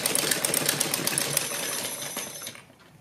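A sewing machine runs steadily as it stitches the sleeve of a kurti, giving a fast, even rattling that carries on for a few seconds and then stops.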